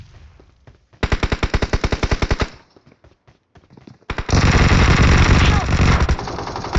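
Rapid automatic gunfire from the mobile battle royale game BGMI comes in loud, close bursts: a fast string of shots, a pause with a few scattered single shots, then a dense sustained volley.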